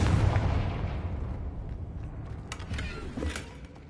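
Confringo blasting curse from Hogwarts Legacy going off, with a series of booming, crackling blasts of mid distance, loud at the start and recurring in short bursts over a steady low rumble.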